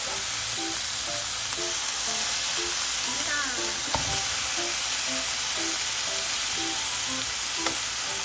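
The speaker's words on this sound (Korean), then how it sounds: "요리하기 귀찮은 날에는 이렇게 고기만 구워 먹어도 충분히 맛있는 것 같아요" Meat pan-grills with a steady, bright sizzle that fills the whole stretch. Faint tonal background music plays along, and one brief clatter comes partway through.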